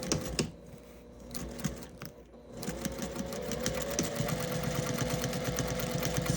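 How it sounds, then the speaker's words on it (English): Domestic sewing machine stitching back and forth across quilted gift bag handles, a steady close mechanical whir and rapid needle clatter that speeds up after a brief pause, running continuously without talk. "I'm just going to put that under the presser foot and stitch back and forth 1 or 2 times"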